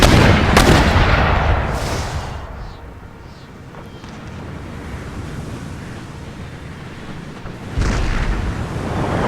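Mortar artillery in a Napoleonic-era strategy game booms out in heavy, rumbling blasts, a few explosions with long roaring tails and a steady windy wash between them, loud and unaccompanied by speech.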